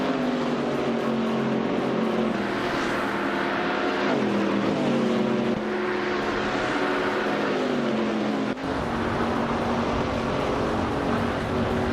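Race cars overtaking during a race: loud, continuous engine whine with rising and falling pitch sweeps as cars pass close by, one after another, with a sharp cut near the end.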